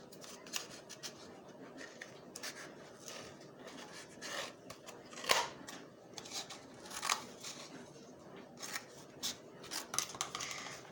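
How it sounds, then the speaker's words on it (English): Scissors slice a cardboard tube in half with repeated crisp snips and papery crunching. The cutting is close and moderately loud, with no talking. "the first step is you need to cut this cardboard tube right in half"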